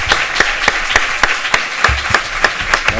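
A large audience claps steadily in a big auditorium, honouring an author at a literary gathering. The dense, sustained applause carries crisp, evenly spaced clap peaks throughout.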